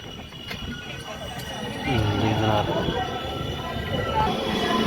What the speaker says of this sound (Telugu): ఇటువైపు ఏదో ట్రైన్ అయితే ఉంది